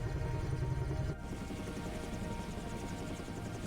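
A helicopter flies in Microsoft Flight Simulator, its steady rotor and engine drone running continuously at a moderate level and shifting slightly in tone partway through.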